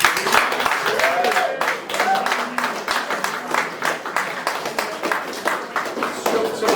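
An audience at a football club's end-of-season presentation claps steadily and densely for a striker, a continuous wash of applause with a few voices mixed in.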